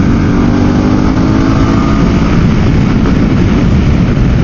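Harley-Davidson Pan America motorcycle engine runs and revs, a dense, loud, steady mechanical roar heard up close with no talk.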